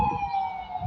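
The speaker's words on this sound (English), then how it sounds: "As the ambulance roll by" An ambulance siren drives by, a loud, steady, high wailing tone that holds nearly level over a low rumble of road traffic.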